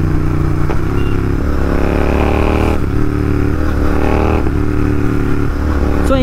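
A motorcycle engine runs close and loud with a steady roar, broken by several sharp exhaust pops and bangs spaced a second or two apart, without a code 6 tune.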